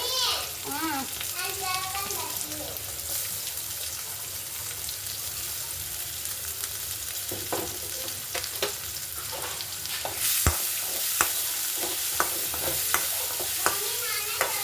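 Onions and green chilies roasting in a pan, with a steady sizzle and frying hiss throughout, broken by scraping stirs and occasional clinks of the spoon against the pan.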